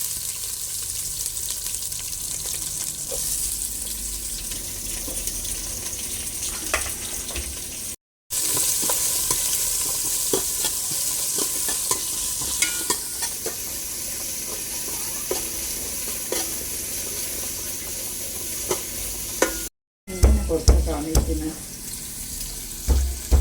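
Sliced onions sizzle softly in a pan with fenugreek, under a steady hiss broken by scattered clinks and scrapes of stirring, and heavier clatter near the end.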